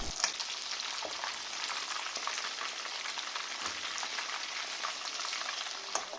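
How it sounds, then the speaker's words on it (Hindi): A second batch of chicken deep frying in oil gives a dense, even bubbling hiss that holds steady from start to finish, with a few faint clinks near the beginning and end. "हमने पहला बैच फ्राई कर लिया है चिकन का, हम दूसरा बैच फ्राई करने वाले हैं"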